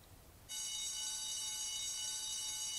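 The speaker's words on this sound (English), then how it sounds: "Guess I'd better check out that alarm." An alarm in Spider-Man 2 starts suddenly and rings on as a steady, shrill electronic tone, faint and unchanging, over quiet background ambience.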